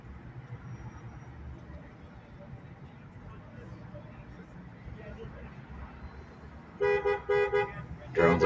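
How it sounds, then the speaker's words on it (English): Street ambience with distant chatter, then a Dodge Ram pickup truck horn honks loudly several times in quick bursts near the end. "That's Craig making those honking noises out of his Dodge Ram."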